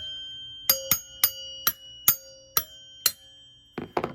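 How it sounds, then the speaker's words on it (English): Pinball machine chime box bells struck one at a time, seven clear ringing strikes in a steady rhythm with short decays, then a couple of duller knocks. "So anyway, there's a pinball chime box."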